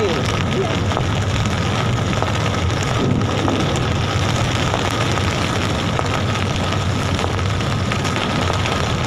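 Steady heavy rain pours down in a dense, continuous roar, with a voice faintly talking underneath.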